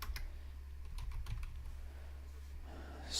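Computer keyboard keys are tapped in a quiet room: a short run of soft, light clicks in loose bursts, fairly close but low in volume.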